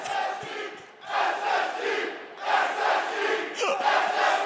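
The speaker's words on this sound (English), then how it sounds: "The crowd has absolutely lost it here in Stockholm." A packed esports arena crowd screams and roars during THE FINALS Grand Major in Stockholm, a sustained loud wall of cheering that surges in waves and stays close and dense throughout.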